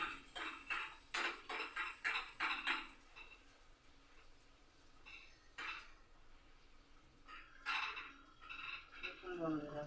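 Fried kachori being strained out of a pan with a metal slotted spoon, a series of close clinks and scrapes of metal on the pan in irregular bursts, with quieter pauses between.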